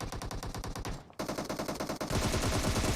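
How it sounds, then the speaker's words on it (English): Rapid automatic weapon fire in a PUBG Mobile tournament match, loud regular bursts with a brief pause, then resuming denser and more overlapping as several guns fire at once. "Serious gunfights going down here."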